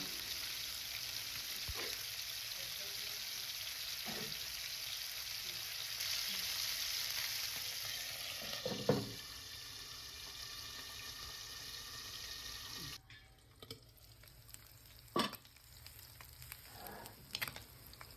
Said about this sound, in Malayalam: വെളിച്ചെണ്ണ നന്നായി ചൂടായ ശേഷം അതിലേക്ക് കറിവേപ്പില ഇട്ട് കൊടുക്കുക ഇനി നമുക്ക് മത്തി ഓരോന്നായി ഇതിലേക്ക് ഇട്ട് കൊടുക്കാം